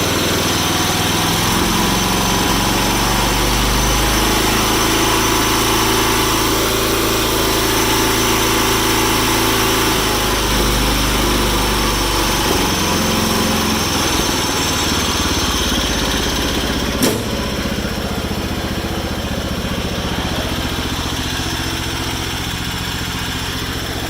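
An older garden tractor, a 214 model, runs steadily with a buzzing, slightly uneven engine drone, loud and continuous with small shifts in pitch and no talking.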